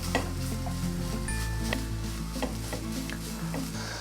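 Cheera chembu thoran with grated coconut and masala is stirred in a pan, with a spoon scraping and tapping the metal in a steady rhythm over a faint, continuous sizzle.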